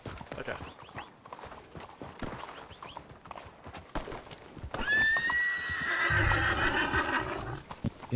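Horse in the Western Skies RP video game: hooves clop steadily under scattered talk, then a loud, close whinny rises and trails off over continued clopping.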